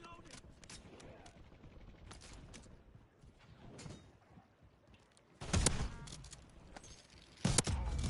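Gunfire in the video game Black Ops 7 Warzone, with scattered shots early on, then louder bursts of rapid fire near the end over a low game ambience.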